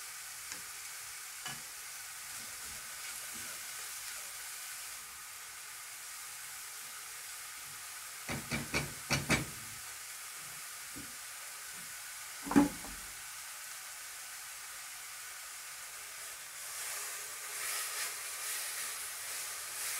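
Onions sizzle and fry in a hot pan, a steady soft hiss running throughout with a few sharper clatters of stirring, close and fairly quiet, with no voices.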